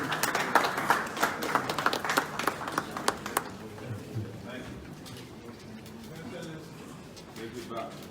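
Clapping from an audience at a governance panel event breaks out for a political guest, dense and fairly loud for about three seconds, then fades into murmuring crowd chatter and talk.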